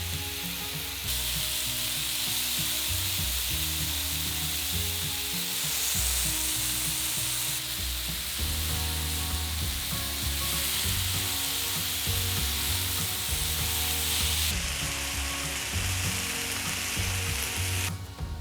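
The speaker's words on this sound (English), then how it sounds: "Place the skewers on the griddle and cook for 8 to 10 minutes until golden brown, turning a couple of times during cooking." Chicken satay skewers sizzle and fry steadily on a hot griddle, a dense continuous crackle that holds close and loud throughout with no talking.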